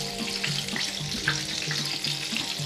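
Coated chicken pieces for KFC-style crispy fried chicken fry in hot oil, giving an even, continuous sizzle with scattered pops and bubbling, moderately loud and close, with no voices.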